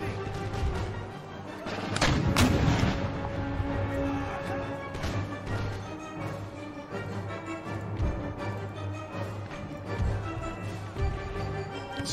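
Canister shot artillery volleys in Empire Total War during a Knights of St John defence of Paris battle, dense overlapping booms and crackling musketry under a steady battlefield din, with a heavy burst early on and scattered impacts throughout.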